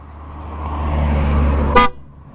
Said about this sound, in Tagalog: So pag nagbusina tayo, sasabay yung busina niya.